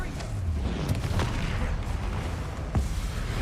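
A Bombarda blasting spell explodes in the Hogwarts Legacy video game, heard as a few deep booming bursts over a steady low rumble, with sharp blasts near the start and toward the end.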